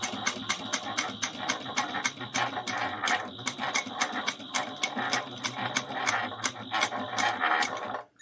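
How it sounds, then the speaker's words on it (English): Sewing machine back stitching a leather espresso wallet, running in a steady rapid mechanical chatter of needle strokes that carries on without pause for about eight seconds, close and fairly loud. "So I'm going to back stitch and I'm going to continue on."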